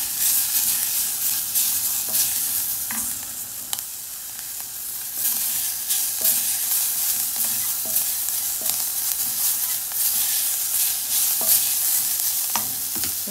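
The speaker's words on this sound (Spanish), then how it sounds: "Ahora le echamos los pimientos." Peppers fry with onion in a pan, giving a constant close sizzle, while a utensil stirs them with irregular scraping clicks and taps. There is no speech.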